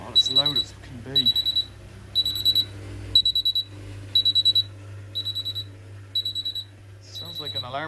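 A Miele Novotronic W1613 washing machine sounds its F63 technical fault alarm, a loud, high electronic beeping in repeated bursts of several rapid beeps, about one burst per second, with a steady low hum underneath.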